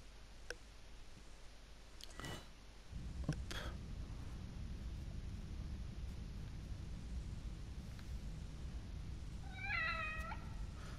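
In the horror video game The Evil Within, a cat gives one short, faint meow near the end, heard over a low, steady ambient rumble with a few scattered clicks earlier.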